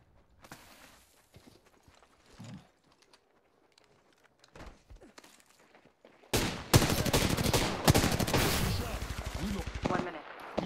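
Rapid gunfire in an Apex Legends match, at first sparse distant shots under quiet footsteps, then a sudden loud dense burst of repeated shots for the last four seconds.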